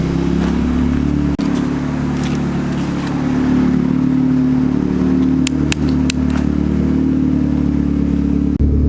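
A turbocharged Honda Civic engine idles steadily with a low, even rumble, close by, and a few light clicks and ticks in the latter half.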